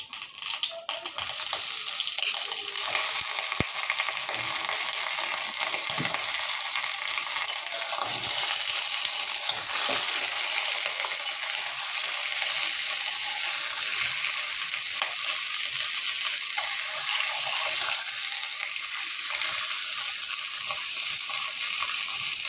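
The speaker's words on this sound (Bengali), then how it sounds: "আমি এবার ওর ভিতরে যে পটলগুলো কেটে রেখেছিলাম আমি এবার ওগুলো দিয়ে দেবো" Sliced pointed gourd (potol) frying in hot mustard oil in a pan, a steady loud sizzle with bright crackle running the whole time, no talking.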